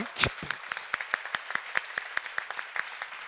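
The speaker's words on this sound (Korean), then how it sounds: "믿는 사람만 뜨겁게 박수 한번 쳐봐" Rhythmic clapping from a church seminar audience, steady beats about four per second, fairly close with a brief voice near the start.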